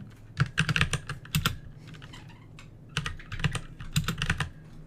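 Steady computer keyboard typing during caption editing, with bursts of rapid key clicks separated by short pauses, fairly close and clear with no voices.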